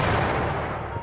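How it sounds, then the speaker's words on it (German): An explosion from the video game The Final Station DLC, a loud, dense rumbling blast that fills the whole moment and slowly tails off. "Yay. Explosion."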